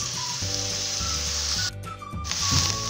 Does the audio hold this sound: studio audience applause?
no